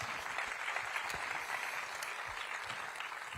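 Thin, scattered applause from an audience at a comedy show, quiet and somewhat distant, holding at an even low level throughout.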